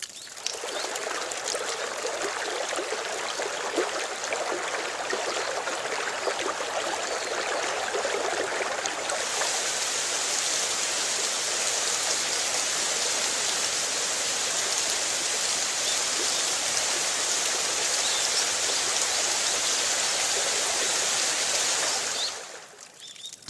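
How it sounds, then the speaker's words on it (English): Cold mountain water flows steadily into dry rice fields in rural Japan in early spring, a continuous rushing stream that runs loud and unbroken for over twenty seconds, then cuts off abruptly near the end. "The cold mountain water spreads over the dry fields."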